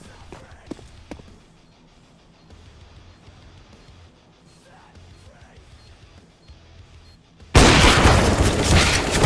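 A planted bomb in a tactical shooter video game detonates: after several quiet seconds of faint footsteps and game ambience with a few small clicks, a sudden loud, broad blast erupts near the end and keeps roaring to the close.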